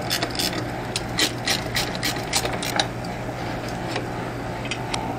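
A ratchet wrench tightening a nut on a mini truck's axle, rapid continuous clicking close by with a steady mechanical rhythm and no talking.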